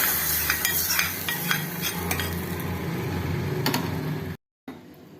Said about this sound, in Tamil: பெருங்காயம் பொரியட்டும்.